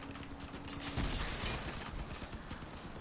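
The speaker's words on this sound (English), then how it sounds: "they've got machine guns, which is particularly dangerous for us because they are able to remove parts of our vehicle" A short burst of machine gun fire in the vehicle combat game Crossout crackles amid rumbling engine noise, peaking near the middle, fairly distant and muffled.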